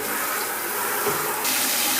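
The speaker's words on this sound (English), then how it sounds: "So I'm just going to fill this up with water." Tap water runs steadily into a container at a hydroton growing setup, a constant faint gushing hiss that brightens slightly as the flow changes.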